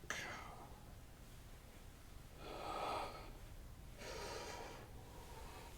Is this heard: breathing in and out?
yes